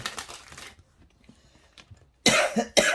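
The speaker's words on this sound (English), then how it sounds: "Sorry, I coughed" A loud, harsh burst of coughing at the start, a quieter lull, then two more sharp coughs close to the microphone.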